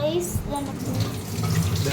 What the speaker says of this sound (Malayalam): പിന്നെ ഒന്നുകൂടി ഒന്ന് വെള്ളം ഒഴിക്കാം